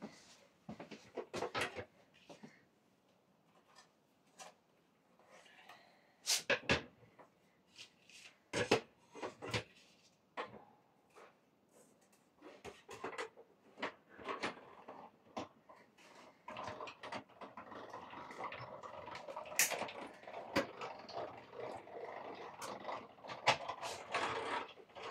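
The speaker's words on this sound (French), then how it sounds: "vous venez passer dans votre machine de découpe" A paper card fed through a manual die-cutting machine, making irregular mechanical clicks, knocks and rubbing, then a steadier grinding roll toward the end, close and fairly quiet.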